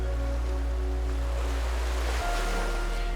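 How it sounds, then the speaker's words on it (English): Ocean surf at a tropical island makes a constant, loud wash of wave noise over a deep, steady rumble, continuous and without pause. "Let's follow the sound of those waves."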